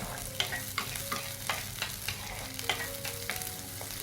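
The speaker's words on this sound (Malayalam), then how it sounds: "കണ്ടതുപോലെ അരിഞ്ഞെടുത്ത് ചെറിയ ഉള്ളി കൂടി ഇട്ടിട്ട് ഒന്ന് മിക്സ് ചെയ്യും" Sliced small shallots stirred and sautéing in a pan for a ground-coconut fish curry: a soft, steady sizzle with regular light scraping strokes of the spoon, close and fairly quiet, no speech.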